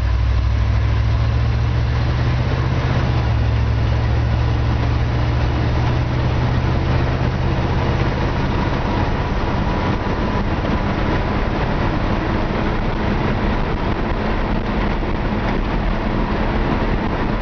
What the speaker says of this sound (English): Listen to the transmission shift out.